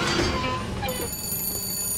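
Telephone bell ringing in the video game Bioshock Infinite, a bright sustained ring starting partway through and continuing steadily over a busy game background.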